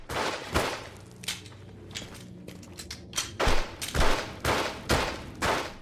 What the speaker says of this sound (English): He can actually shoot me through the fucking curtain.